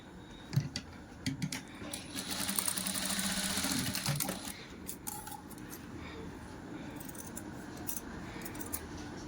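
A sewing machine stitches a blouse neck in a quick burst of rapid mechanical chatter, followed by softer handling clicks and rustles of fabric, close and fairly clear.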